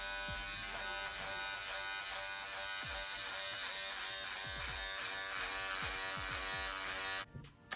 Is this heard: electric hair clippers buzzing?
yes